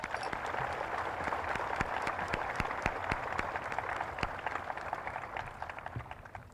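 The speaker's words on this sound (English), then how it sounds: "Let's give a round of applause for the teachers and staff for all they've done to help us." A graduation ceremony crowd applauds the teachers and staff, dense sustained clapping from a large audience at moderate distance, steady throughout with no voices over it.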